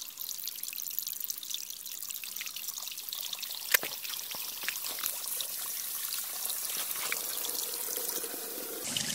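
Water gurgles and trickles through the pipe of a ram pump while its valve is opened and closed, a continuous hissy flow with a sharp knock partway through and small irregular splashes, heard close with no talking.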